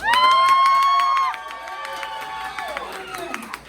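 A comedy show crowd in a bar cheering and whooping, with a loud sustained shout up front and scattered clapping continuing underneath as it fades.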